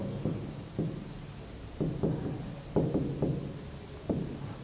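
Chalk or marker writing probability notation on a classroom board makes a series of short scratchy strokes in an irregular rhythm, close and moderately loud over a low background hum.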